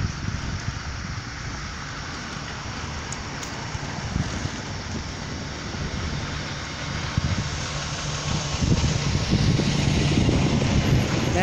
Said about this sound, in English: That bus sounds like it's on its last wheels.